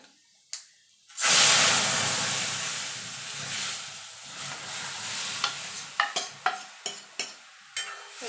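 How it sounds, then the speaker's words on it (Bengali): A sudden loud sizzle as spices hit hot oil, hissing steadily, then several sharp clinks of a spoon stirring near the end. "ফোড়নটা একটুখানি ভাজা ভাজা করে নেব"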